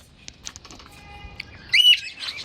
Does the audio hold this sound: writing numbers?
no